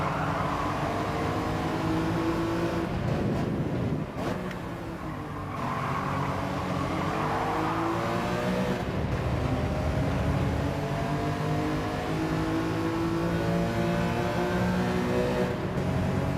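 Race car engines roar in Gran Turismo 7 during an online lobby race, several cars revving and shifting through gears with rising and falling tones, loud and continuous throughout.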